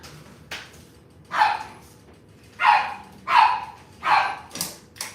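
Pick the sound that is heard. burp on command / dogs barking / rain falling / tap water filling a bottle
dogs barking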